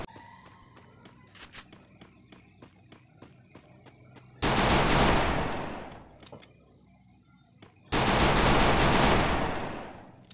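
M500 gunfire in the game Free Fire: after light footsteps and clicks, two long, loud bursts of rapid automatic fire ring out close up, separated by a short lull.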